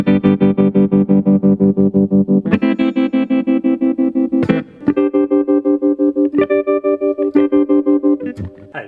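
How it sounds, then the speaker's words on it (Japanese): A BOSS TR-2 tremolo pedal at maximum depth chops sustained guitar chords into a fast, even on-off pulse like a slicer, with the chords changing every couple of seconds, loud and close with no talking. "こんな感じで音がダッダッダッダッダッダッと切れたような感じの雰囲気も出せますっていう感じですね"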